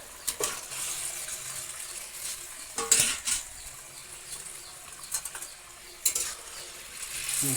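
Mutton (goat meat) stirred in a frying pot with a utensil, giving soft scraping sizzle and a few sharper clinks of metal against the pot at irregular moments, with no talking.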